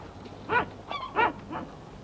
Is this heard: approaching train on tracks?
no